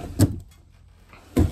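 Two sharp wooden knocks a second apart as handleless drawers in an abandoned trailer house are pulled open or pushed shut, close and distinct with quiet between them.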